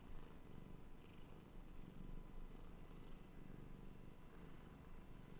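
Steady low rumbling purr from a close cat named Bart, continuous with gentle rhythmic breathing cycles and no other sounds.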